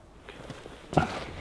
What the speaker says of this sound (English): I think I hear footsteps out there